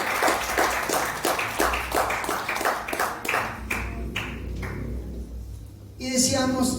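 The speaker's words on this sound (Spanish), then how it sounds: "dale un fuerte aplauso al Rey de Reyes y Señor de Señores" A church congregation applauds the Lord in a rhythmic, measured clap, each beat sharp and regular, slowing and fading before a voice speaks over the end.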